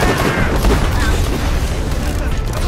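Revolver shots from the video game Borderlands The Pre-Sequel boom amid a busy, loud mix of gunfire and game effects, with voices talking over it.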